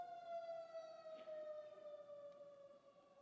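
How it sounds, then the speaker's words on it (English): A faint, distant siren holds a steady wailing tone with slight pitch drift, heard alone over low background hiss. "Just wait for the siren."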